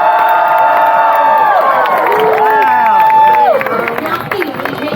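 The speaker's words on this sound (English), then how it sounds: "And once he's in place, red team cheer him on." A crowd cheers and shouts loudly at a stunt dog show high jump at the State Fair of Texas, with rising whoops and excited yells, and an announcer talking over the din.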